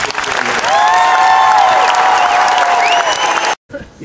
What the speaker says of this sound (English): Please join me in a round of applause for these great men of Ranger